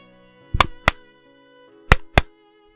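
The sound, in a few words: knocking on a door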